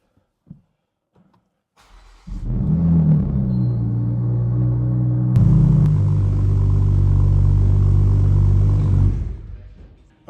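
An A90 Toyota Supra engine starts and runs steadily for about seven seconds, a loud, close, even rumble after a brief silence, then fades as it shuts off.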